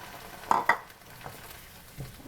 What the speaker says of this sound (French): Là, je vais ajouter un petit peu d'eau.